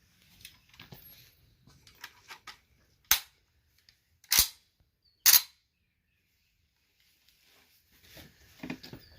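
Three sharp, loud gunshots from an Auto Ordnance M1 Carbine in .30 Carbine, fired at a target 150 yards away. The shots come about a second apart, with faint handling noises before and after.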